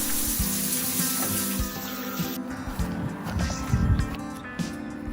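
Tap water runs steadily into a sink for a splash on the face, a continuous close hiss and gurgle that grows a little busier toward the end.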